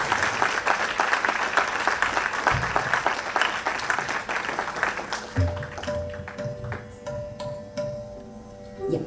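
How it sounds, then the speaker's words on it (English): Audience applause for a dancer at a classical dance recital, sustained clapping that gradually thins and fades, with a few faint tones emerging near the end. "So a big round of applause for this wonderful artist."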